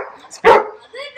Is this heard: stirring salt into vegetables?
no